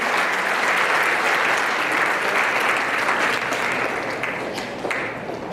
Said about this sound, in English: give these guys a big round of applause, please